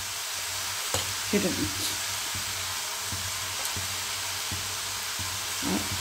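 Chopped tomato going into a pan of frying mixed vegetables for a dry sabji, a steady hiss and sizzle with occasional clinks and stirring scrapes, while someone speaks briefly.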